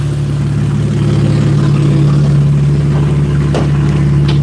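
BMW E92 coupe engine idling cold while warming up, a loud steady low hum holding even throughout, heard up close with a brief knock near the end.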